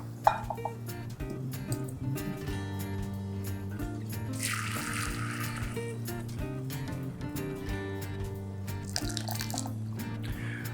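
Cooking water draining off boiled rice for a Rajasthani gatte pulao, heard as two short bursts of pouring, splashing liquid over steady background music.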